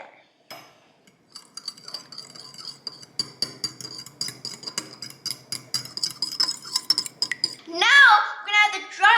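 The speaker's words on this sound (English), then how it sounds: "Now we're gonna whisk it all together." Whole milk being whisked with wet batter ingredients in a bowl for s'mores mini waffles: a quick, steady run of clinking, scraping strokes close by, ending in a burst of voice.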